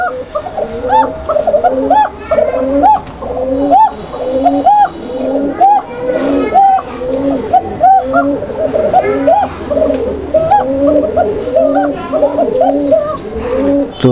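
A pair of Bashiraj pigeons coos loudly and close by in steady, rhythmic repeated calls that continue without a break.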